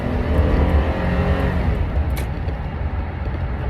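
A truck engine drones loudly and steadily while driving near a freeway in Stockton, California, a continuous low rumble with road noise and no talking.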